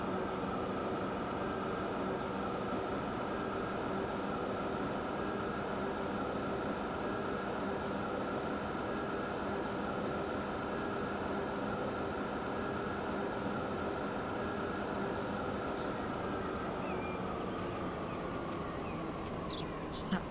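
A train in the Transport Fever 2 game runs at full speed on the UK Great Western Main Line, giving a continuous steady drone with tonal hum and faint high whine, unbroken throughout.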